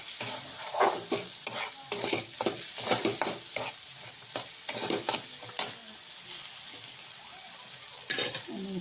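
A Katwada spice mixture with turmeric and salt roasts in a pan, with a soft steady sizzle under repeated scraping stirs that come in quick bursts and then ease off, close and moderately loud.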